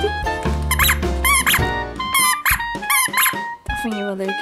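A squeaky dog toy ball is squeezed repeatedly, giving bright, high squeaks in quick bursts, while a person speaks over them at close range.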